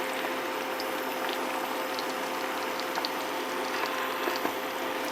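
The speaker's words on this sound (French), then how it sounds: "Et là, on répartit donc les œufs partout dans la poêle." Eggs for a tortilla spread across an oiled frying pan over moderate heat, giving a steady, even sizzle and hiss with faint occasional ticks, close up and without talk.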